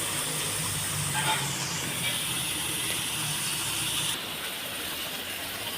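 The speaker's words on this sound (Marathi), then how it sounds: "हे बोंबी बोंबलाची मच्छी आहे आणि ते ससने फ्राय होत" Fresh bombil fish frying over a low gas flame makes a continuous, fairly loud hiss that carries through the whole stretch and drops slightly toward the end.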